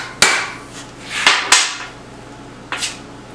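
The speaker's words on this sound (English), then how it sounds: "I'm sort of battering on the end of the crankshaft here, so I can't just give it a lot of welly" A hammer batters on the end of a Harley crankshaft: four sharp metallic blows, two close together early, one after a short pause and a last one after a longer gap, each ringing briefly in a quiet workshop.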